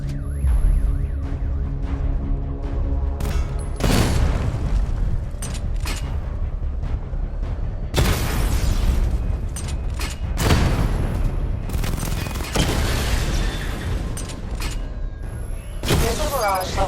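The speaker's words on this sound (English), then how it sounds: "Destroy targets to charge up weapon energy and activate missile barrage." Missile barrage explosions rip through targets in Batman: Arkham Knight, a dense run of loud booms and bursts with crackling debris, several big blasts landing around 4, 8, 12 and 16 seconds over constant mechanical game noise.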